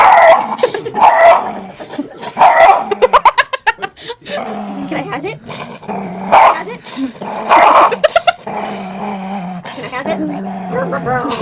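A stressed dog barks and yips in loud, rapid bursts, with growls and whimpers between them. Voices talk and shout close by throughout.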